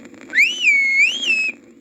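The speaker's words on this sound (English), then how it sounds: "A very loud worm whistle." A very loud whistle from a worm in a narrated children's story, one clear sustained tone lasting over a second that rises, dips and rises again before cutting off.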